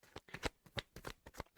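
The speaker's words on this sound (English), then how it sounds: "I have shuffled the cards." Tarot cards are shuffled by hand, a quick run of soft riffling flicks and taps in an irregular rhythm, close and quiet with no voices.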